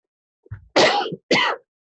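A single sharp sneeze, preceded by a brief intake of breath and followed by a short second burst, close and fairly loud.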